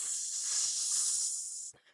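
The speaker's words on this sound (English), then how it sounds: "we also see that something is like fizzing inside of his boot" An anime character's boot gives off a steady, loud fizzing hiss that runs almost two seconds, then stops abruptly.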